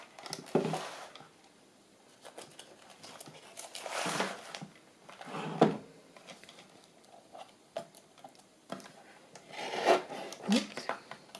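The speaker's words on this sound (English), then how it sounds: "Just going to trim it off a little bit at the side." Blade trimming the edge of a handmade paper masterboard, a few scattered raspy cutting and rubbing bursts separated by quiet pauses, close and soft.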